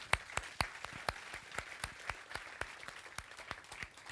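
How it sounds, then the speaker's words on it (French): Sparse, individual hand claps at a French digital-innovation conference opening, sharp and evenly spaced like a few people clapping in a rhythmic beat, fairly faint and distant with no talking over them. "Vous pouvez les applaudir, parce qu'ils ne vont pas s'applaudir pendant 2 jours."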